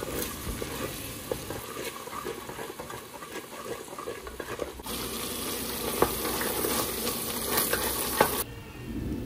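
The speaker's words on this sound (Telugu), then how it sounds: "ఆ పేస్ట్ని ఇప్పుడు ఆయిల్లో బాగా ఫ్రై చేయాలి" Onion and tomato paste frying in hot oil for an aloo kurma, a steady close sizzle with light stirring scrapes throughout, easing to a quieter hiss near the end.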